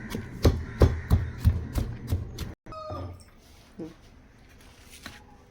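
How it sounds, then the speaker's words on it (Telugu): Two onions being pounded with a pestle for gravy, a steady series of close, heavy thuds and squishy crushes, about eight strikes, then quieter rustling and scraping. "2 ఉల్లిపాయలు ఇలా గ్రేవీ కోసమని దంచుతున్నాను."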